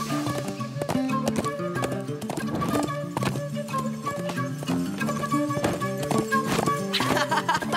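Horse hooves clip-clop in a rapid, rhythmic patter in an animated cartoon, joined by a neigh and set against music and brief talk.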